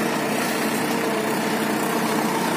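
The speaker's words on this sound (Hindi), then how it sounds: "ये और दीपू का ही ट्रैक्टर है" Farm tractor engine idling in an Indian field, a steady low rumbling drone with constant vibration, fairly close and even throughout, with no voices.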